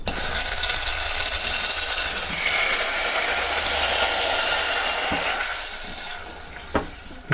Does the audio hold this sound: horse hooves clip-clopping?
no